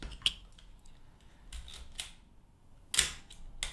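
A Yashica FX-3 mechanical 35mm SLR camera is handled and its shutter released, giving a few sharp, close clicks separated by quiet gaps.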